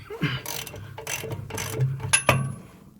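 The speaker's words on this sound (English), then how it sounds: "So I'm going to untie this bolt" Ratchet working loose a 19 mm bolt on the air bag suspension of an Isuzu, UD or Fuso truck, giving several short bursts of close mechanical clicking with no talk.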